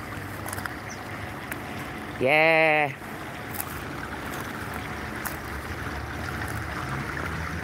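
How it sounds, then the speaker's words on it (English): Water from a small natural waterfall runs and splashes in a constant rushing wash beside the listener outdoors, with a short voiced sound cutting in partway through and rustling movement over rocks. "we got a little waterfall, a little natural, slight waterfall happening"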